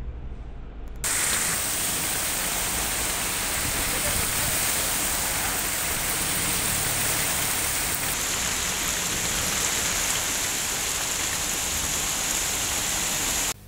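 Heavy rain pours down during a downpour in Telangana, India, a dense, continuous hiss that stays loud and even throughout, with no voices.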